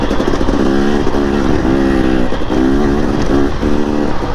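A motorcycle rides along steadily with a loud, continuous engine drone and rhythmic pulses of revving, heard close throughout with no speech.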